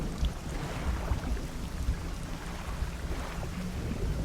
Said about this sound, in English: Damn, that was a long crack of thunder.